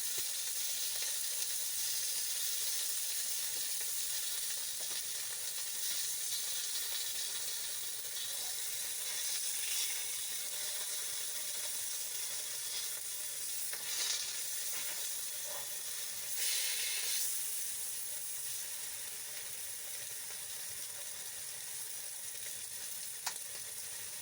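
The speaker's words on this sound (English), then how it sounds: "Listen to that sizzle." Constant loud sizzling and crackling from steak frying in a hot pan on a wood stove at a cold-weather campsite, with occasional bursts of hiss and faint stirring sounds.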